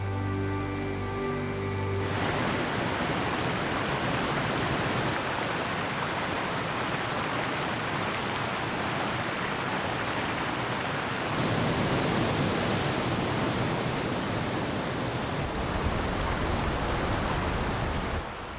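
Rapids on the Nile roar as a dense, steady rush of turbulent water, loud and continuous with no voices.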